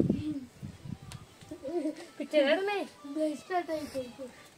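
Pigeons or doves cooing in a forest, with soft repeated coos mixed under close, lively human voices that run through the whole stretch.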